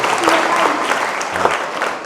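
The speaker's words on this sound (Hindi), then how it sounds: "जोरदार तालियां निर्भय जी के लिए" A school audience at Central Academy Shikshantar in Kota claps loudly for a student, the applause thick and continuous with a few voices mixed in.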